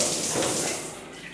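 Handheld shower head in a hotel bathroom running a steady broadband spray of water, close and fairly loud, easing slightly softer toward the end.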